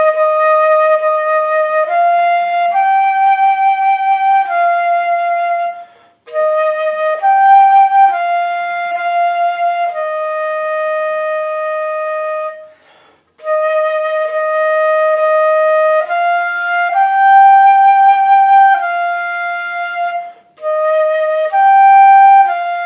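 A flute plays the tune Au Clair de la Lune as clear, sustained solo notes in a simple stepwise melody, loud and close. Short breath pauses separate the phrases.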